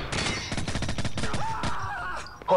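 Rapid bursts of automatic gunfire in Call of Duty 4: Modern Warfare crackle loud and close, with dense repeated shots running through most of the moment before a short sharp burst at the end.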